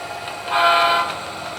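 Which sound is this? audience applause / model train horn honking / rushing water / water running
model train horn honking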